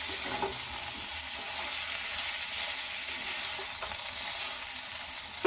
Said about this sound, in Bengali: নারকেলটা দিয়ে 5 মিনিটের মতন আমি নাড়াচাড়া করে নিচ্ছি।